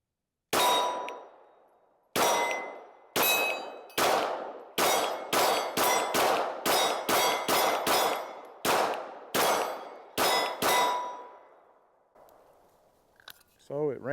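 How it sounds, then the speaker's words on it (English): A Kimber R7 Mako Carbon Compact pistol fires carry ammunition at a steel target: about fifteen loud, sharp shots with ringing steel hits, some in quick strings and some spaced out, then a brief metallic rattle. "I'm going to shoot my carry ammunition"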